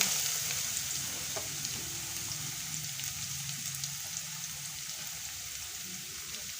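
Papaya pieces sizzle in hot oil with chopped ginger, a steady dense frying hiss that carries on evenly and close, with faint stirring scrapes and no talk.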